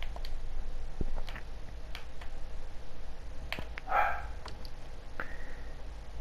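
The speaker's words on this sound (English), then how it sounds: "the dog will keep on barking." A dog barks a couple of times at a distance over a steady low rumble, with a few sharp distant firework pops scattered around.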